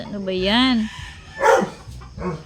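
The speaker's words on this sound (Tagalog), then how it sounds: "Sorry sa ingay ng aso namin guys." A household dog barks in a short burst, with a yelping, rising-and-falling cry near the start and another bark mid-clip, close by and loud, while a person talks between the sounds during an indoor unboxing.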